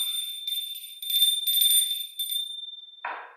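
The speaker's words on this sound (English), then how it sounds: "You gotta ring the bell" A bright bell-ding sound effect rings out with a sustained high metallic tone and shimmering strikes that fade away, followed by a short final chime, with no talking.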